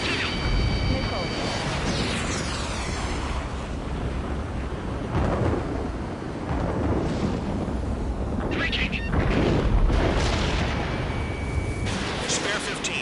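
A missile strikes an aircraft during a jet dogfight in Top Gun: Danger Zone, a heavy rumbling blast that rolls on under cockpit warning tones and radio chatter.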